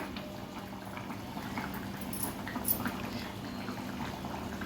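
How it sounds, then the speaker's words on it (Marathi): Fish curry bubbling at a steady boil over a high gas flame for an Agri-Koli style fish thali, a soft continuous simmering and gurgling hiss close by with no talk. "कालवणाला पण छान उकळी आली आहे"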